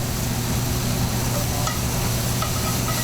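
Fresh garlic hitting a very hot pan for blackened steak tips, a dense continuous sizzle and fry hiss, loud and close, with no voices.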